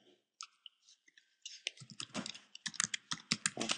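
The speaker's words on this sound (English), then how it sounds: "so let me type it in" Typing on a computer keyboard, close and clear: a few isolated key taps at first, then a quick burst of rapid clicking keystrokes, with no speech.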